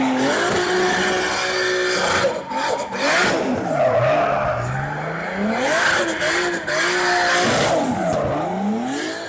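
BMW E92 fitted with a 2JZ engine drifting, its loud engine revving and falling in repeated swells while tires squeal and skid continuously nearby.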